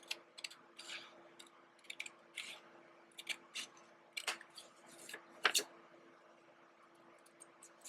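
Scissors cutting paper for a handmade journal, making a series of crisp, close snips in short irregular clusters against a quiet background.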